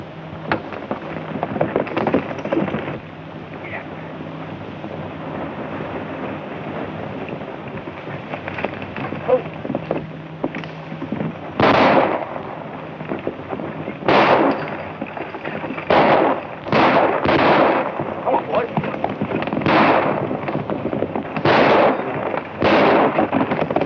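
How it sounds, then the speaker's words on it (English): Gunshots fired over people's heads in a 1935 western ring out as about eight sharp, irregular bangs in the latter half, preceded by a rough, noisy outdoor background. "I want you to fire over their heads."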